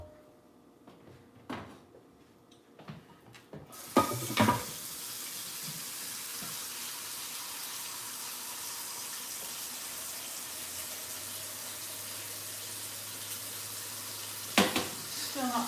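After a few faint knocks and clatters, a sink tap opens and water runs steadily for washing an item, a soft continuous hiss with a brief clunk near the end.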